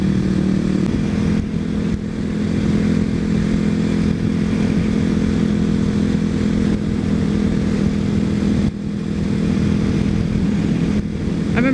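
A motorcycle engine runs close by, a continuous loud rumbling drone with brief dips and surges as it revs, heard alone without talk.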